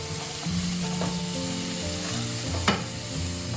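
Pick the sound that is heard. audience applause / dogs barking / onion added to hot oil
onion added to hot oil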